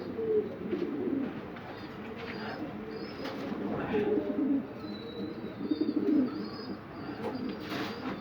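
Young pigeons coo softly and continuously nearby, layered murmuring calls with an occasional flutter of wings and faint chirps in the background.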